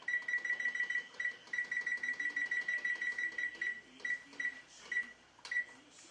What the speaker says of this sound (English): Okay, now let's set the timer.